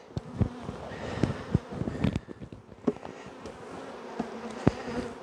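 Honey bees buzz around an open hive while nucs are transferred, with close passes that swell and fade and a sharp near drone over a softer hum, and no talking.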